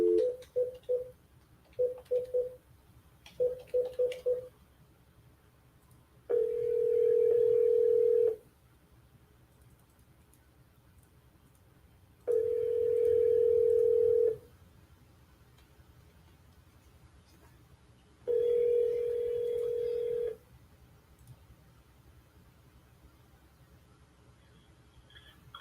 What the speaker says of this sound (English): I can't find the phone. I hear it, but I can't find it.